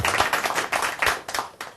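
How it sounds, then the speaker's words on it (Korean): Audience clapping for a newly introduced company employee at a live talk show: a short, loose burst of hand claps with uneven rhythm, close and fairly loud, with no speech over it. "어색하게 박수 한번 주세요."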